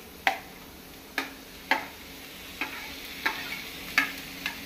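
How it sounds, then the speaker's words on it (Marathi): Tomatoes fry in a pan for a Kokan-style bottle gourd dish, a low, steady sizzle punctuated by about eight sharp, evenly spaced clacks of a spoon stirring and tapping. "तो आता हांव घालता टोमॅटो।"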